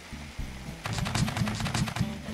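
Cannon fire from a player-built vehicle in the game Scrap Mechanic: a quick rattling series of about a dozen sharp shots at an even rhythm, loud and close, following a brief low mechanical hum.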